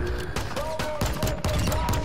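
Rapid pistol fire in Call of Duty Warzone 2.0, with dense back-to-back shots and mechanical clatter continuously filling a short, loud burst of game action.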